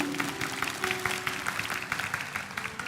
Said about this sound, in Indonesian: Berikan tepuk tangan untuk Tuhan, haleluya.